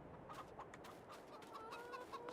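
Chickens clucking in the farm game Farming Simulator 22, a steady stream of overlapping clucks and soft chatter from several birds at close range, with no talk.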